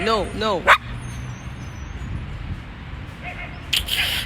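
A dog lets out two or three close, sharp barks at the start, followed by low background noise and a brief clatter near the end.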